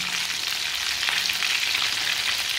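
Kebabs fry in hot oil with a loud, continuous sizzle, dotted with sharp spattering pops throughout, and no talking over it.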